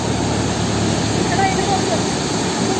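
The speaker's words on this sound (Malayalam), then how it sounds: "3 ഷട്ടർ തുറന്നു. ആ വെള്ളം കുത്തിയടിക്കണുണ്ടോ," Water gushes hard from three opened dam shutters at Vadattupara, a dense, steady roar of pounding water that fills the scene from start to finish, close and loud with no pauses.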